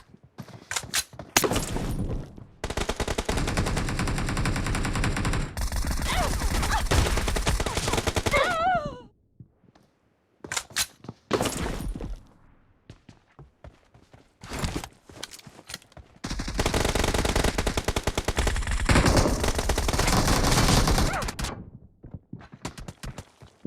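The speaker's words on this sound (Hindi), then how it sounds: "3 किल एक साथ भाई शॉट गन से।" Shotgun gunfire in a BGMI team deathmatch match comes as loud, dense blasts in long bursts, with game sounds and short pauses between them.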